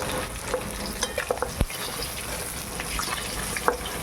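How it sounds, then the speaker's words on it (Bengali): Fish frying in a pan in a village kitchen, a steady soft sizzle of hot oil with faint stirring clicks and scrapes, close and fairly quiet throughout. "খুব সুন্দর করে মাছটা ভাজা হয়ে গেছে"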